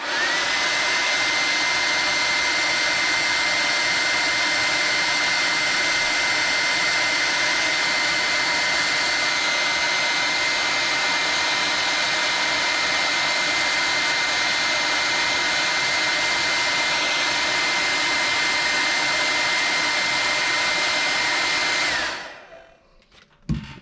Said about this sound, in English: So I need to blow dry that because I'm not going to stick it on there and make a mess.